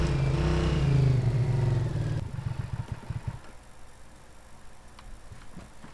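A vehicle in the video game ARMA 3 drives along with a loud, rising engine drone. The drone then cuts away to lighter ticking and clattering noises.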